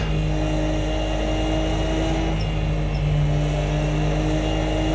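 A racing car engine in Project Cars 2 drones loud and steady on the Nordschleife at night in snow, a sustained high-revving hum that holds nearly constant throughout.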